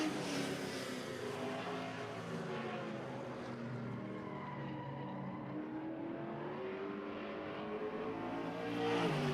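Race cars lapping an oval track, among them a Cadillac Eldorado, a steady roar of engines heard from a distance with a rising and falling pitch as cars pass.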